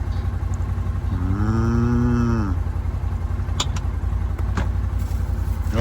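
A heifer lets out one long, rising-then-falling moo in the middle, heard over a steady low vehicle engine idling close by, with a few faint clicks afterward.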